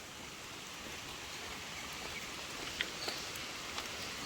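Soft, steady rain falls on a rural stretch near railway tracks, a faint even patter with a few slightly sharper drops, heard alone with no talking.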